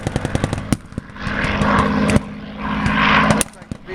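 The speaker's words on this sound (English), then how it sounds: "B-51 strafing the battlefield." A WWII aircraft strafes the battlefield during a reenactment, its engine roar swelling and fading while sharp gunfire bursts punctuate it outdoors, nearby people talking through it.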